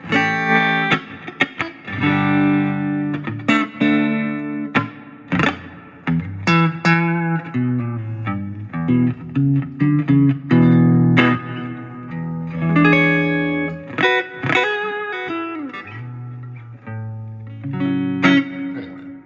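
Electric guitar played through a Fender Champion 20 amp with heavy effects, chords and single notes ringing out with reverb and modulation, pausing between phrases.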